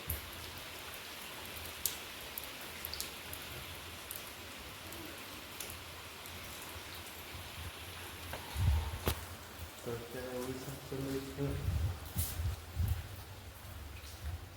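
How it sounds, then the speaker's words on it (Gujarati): Rain falls steadily with soft patter and occasional sharper drops; partway through, a voice speaks quietly under it. "વરસાદ ચાલુ છે જો"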